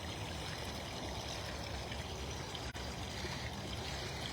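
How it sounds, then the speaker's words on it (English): Running water at a big cat enclosure makes a steady, even rush and trickle, continuous and moderately faint, with no voices over it. "It might be a lot of water noise"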